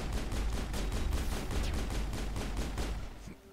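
Rapid gunfire from a marksman rifle in the sci-fi shooter Mass Effect, a dense, loud burst of repeated shots lasting about three seconds before cutting off, with no talk.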